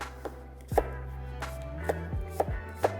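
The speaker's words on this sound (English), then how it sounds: "chop it up" A knife chops peeled purple top turnips on a cutting board, about five or six crisp, close strikes at an uneven pace, with nothing else heard.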